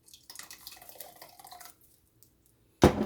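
Thick jarred lasagna sauce pours and drips in soft wet splats for a second or so, then goes quiet before a sudden loud burst at the end.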